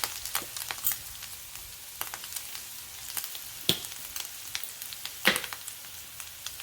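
Diced onion, jalapeno and vegetables with salt sizzle softly in a pan, a steady low fry broken by scattered spoon scrapes and stirring clicks.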